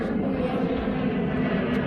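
A plane passes overhead near a railway with a steady, broad engine roar, dense and continuous for a couple of seconds at moderate loudness.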